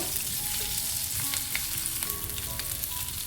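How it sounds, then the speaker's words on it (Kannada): Half an onion frying in oil over a medium flame, a steady close sizzle with faint stirring scrapes throughout and no talking. "ಇಷ್ಟನ್ನು ಸ್ವಲ್ಪ ಫ್ರೈ ಮಾಡ್ಕೊಳ್ಳೋಣ ಮೀಡಿಯಮ್ ಫ್ಲೇಮಲ್ಲಿ ಇಟ್ಕೊಂಡು ಸ್ವಲ್ಪ ಫ್ರೈ ಮಾಡ್ಕೋಬೇಕು"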